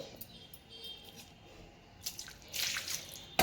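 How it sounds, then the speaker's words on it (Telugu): A bottle gourd is rinsed by hand in water, making quiet, scattered drips and soft splashes, with a brighter splash near the end and a sharp tap at the close. "చిల్లుకాయ తీసుకుని చక్కగా దీన్ని కడిగేసుకోవాలండి"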